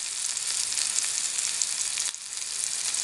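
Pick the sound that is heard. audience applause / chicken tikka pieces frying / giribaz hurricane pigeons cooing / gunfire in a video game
chicken tikka pieces frying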